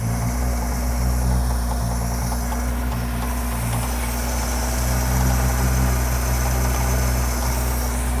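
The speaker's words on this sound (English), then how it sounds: "I'm gonna let it idle for a minute." A Ford 200 inline six engine idles with a steady, loud low rumble that holds evenly throughout, with no voices over it.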